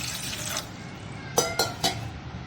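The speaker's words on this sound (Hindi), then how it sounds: "मैंने 2 कप पानी डाल देना है" Water is poured into a pan to make sugar syrup (chashni) for a sweet bread dessert, a short rushing splash followed by a few sharp metallic clinks of utensils against the pan, close by.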